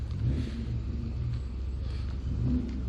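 An Elan classic car arrives at a Locks Heath classic car club treasure hunt, its engine a steady, close, low rumble with slight revving swells throughout and no talk over it.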